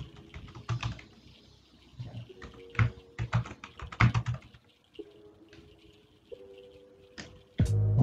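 A computer keyboard clatters close by as a root password is typed during a CentOS 7 Linux install in VirtualBox on Windows 10, with irregular bursts of keystrokes and short pauses and no talk.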